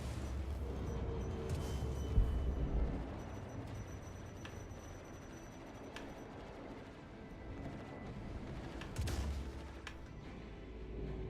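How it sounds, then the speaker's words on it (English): In the space game Star Citizen, a torpedo strikes a ship with a deep, rolling rumble of booming impacts, swelling around the start and again later, sustained and fairly distant under steady engine drone. "Torpedo hit."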